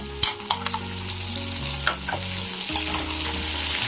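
Two onions cut into wedges sauté with spices in a pan for an Egyptian green bean and meat stew, with a steady close sizzle and several sharp scraping stirs and spoon knocks, plus a low background hum.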